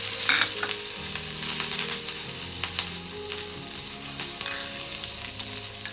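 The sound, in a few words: onion, ginger garlic and fennel powder frying in oil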